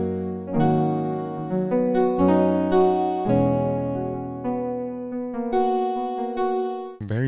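Faded Keys synth patch from Logic's Alchemy plays a soft, sustained sequence of layered chords, each one ringing into the next, clear and alone.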